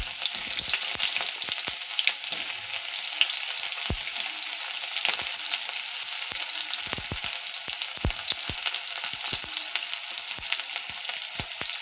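Chopped onion hits hot oil in a pan and fries with a steady, dense sizzle throughout, broken by scattered sharp crackles and spatter pops, close and fairly loud, with no talking.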